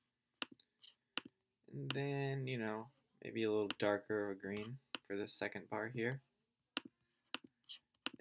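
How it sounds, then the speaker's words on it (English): Sharp computer mouse clicks, scattered singly and in quick pairs, sound close by while a person talks through designing custom sticker images in between. "Sorry for the background noise and the clicking"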